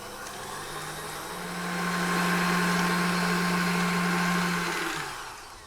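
An electric mixer whisks butter and brown sugar for gingerbread cookie dough, a steady motor whir that swells in the middle and tapers off near the end, with no talking.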